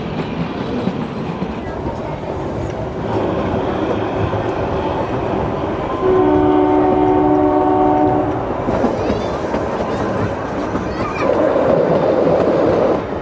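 The Shimla toy train climbs a winding mountain line, its carriages rumbling steadily as a horn sounds for about two seconds midway, with faint talk nearby.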